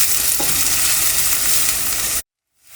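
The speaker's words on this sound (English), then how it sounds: "We have been roasting the onion in the oil for 2 to 3 minutes now" Onions frying in oil while being stirred, a steady broadband sizzle that holds loud and close and then cuts off abruptly near the end, with no voices.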